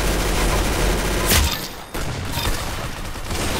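Loud, sustained automatic gunfire in the Roblox shooter Arsenal, dense continuous bursts with a brief lull midway before the shooting resumes.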